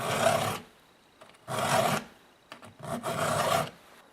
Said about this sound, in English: Now only push down on the file when you're pushing forward.